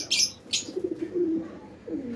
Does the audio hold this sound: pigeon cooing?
yes